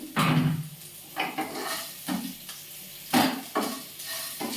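Moong dal being stirred in a pot after a pinch of salt goes in, a spoon scraping and clinking in repeated strokes with a soft sizzle underneath, close and fairly loud with no talking.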